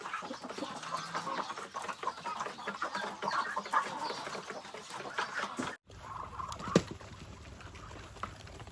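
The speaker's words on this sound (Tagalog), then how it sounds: "Yan ang mga manok." A flock of chickens clucks continuously at close range, with overlapping calls, a brief break partway through, then more clucking.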